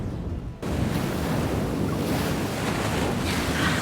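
Ocean waves in Love and Deepspace, a loud, dense, continuous wash of surf and rushing water that surges in after a brief quieter moment.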